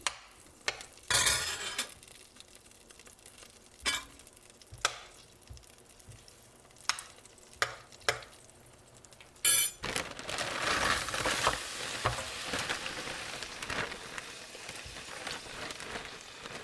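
Frozen whole mushrooms land in a hot pan after several sharp clicks and knocks of handling. A loud hit is followed by a steady, fairly soft sizzle that carries on to the end, with no talking.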